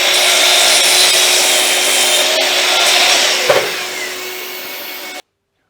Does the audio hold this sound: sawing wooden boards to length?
yes